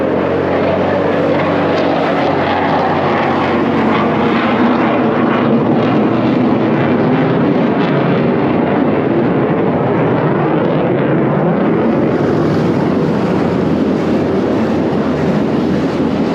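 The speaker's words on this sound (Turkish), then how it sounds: "bu gürültü jetlerin sesi" A loud, continuous roar of military jet aircraft over Eskişehir, Turkey, swelling and shifting slightly as the planes pass overhead.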